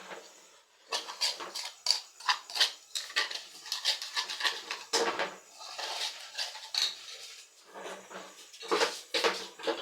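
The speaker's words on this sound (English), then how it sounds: "So I'll be mixing it with red oil." Achi being mixed with red oil for egusi soup, a run of close, irregular scraping and clinking of a spoon against a pot or bowl, loud and busy, with short pauses between bursts.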